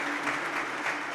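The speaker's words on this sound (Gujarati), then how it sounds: "એને આપણે તાળીઓથી વધાવવા છે." An audience at a talk program bursts into dense, steady clapping that fills the room, sustained and even for the whole moment.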